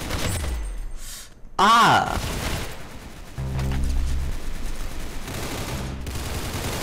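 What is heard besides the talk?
gunfire in the Roblox video game Arsenal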